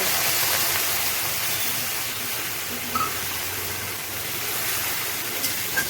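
Tomato paste is added to a hot pan and gives off a loud, steady hiss of sizzling that holds evenly throughout, close up, with no talking.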